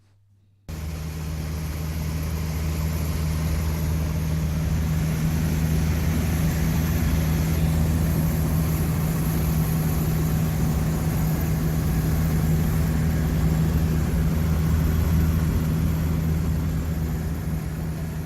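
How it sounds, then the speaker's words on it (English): A Zenith CH200 light aircraft engine drones steadily and loudly for the whole stretch, a constant low propeller hum as if heard from inside or near the cabin, starting abruptly and holding even. "after all these years it was time that Frank should actually go for a fly in his aircraft"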